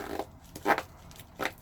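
Zipper on an EDC pouch organizer being pulled in three short, close rasping strokes separated by brief pauses.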